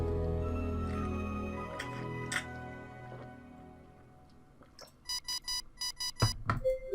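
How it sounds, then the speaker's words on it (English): Phone alarm going off inside a video game, a run of short, sharp repeated electronic beeps in quick bursts that starts after a quieter stretch of soft game sounds. "My phone alarm blares and wakes me up bright and early"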